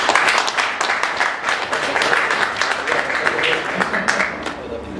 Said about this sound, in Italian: l'applauso è per i nostri relatori